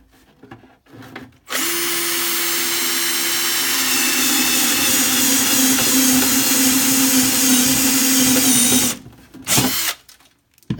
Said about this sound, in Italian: Forare fino alla dimensione desiderata, come vedete è venuta perfettamente circolare